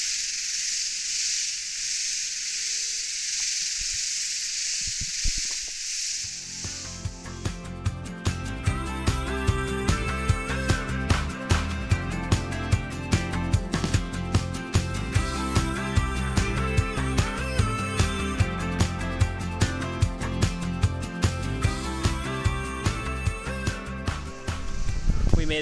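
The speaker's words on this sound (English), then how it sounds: "listen to those cicadas" Cicadas in central Texas summer shrill in a dense, steady buzz with rapid pulsing texture, loud and continuous after a quieter hissing opening.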